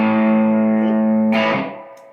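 Hard guitar chord through a Keeley Nobel Screamer set to hard clipping, a sustained buzzy distorted ring that holds steady, then a brief pick scrape before it fades.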